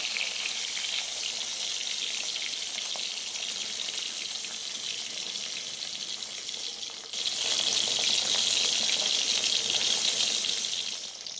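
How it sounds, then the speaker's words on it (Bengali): Pabda fish frying in oil in a wok, a continuous hissing sizzle that suddenly grows louder and brighter partway through, then holds steady. "কড়াইয়ে তেলটা দিয়ে আমি মাছগুলোকে একে একে ছেড়ে দিয়ে ভেজে নিচ্ছি"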